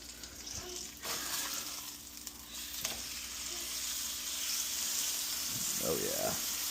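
A wagyu ribeye steak sizzles loudly and continuously in a hot pan just after being flipped, with some scraping and a short faint tonal sound near the end.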